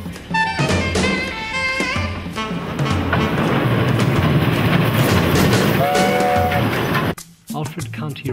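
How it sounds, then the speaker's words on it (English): An NG16 Garratt narrow gauge steam locomotive, built 1967-68, shunts loudly nearby with chuffing, clanking and short whistle tones, ending in a sudden drop to near quiet with a few last knocks. "Now it's time for some shunting and getting ready for the trip."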